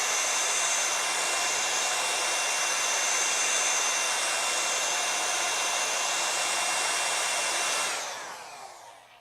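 Ryobi air duster blower running at full power, a steady loud rushing hiss of air that holds for about eight seconds and then winds down as the motor cuts off.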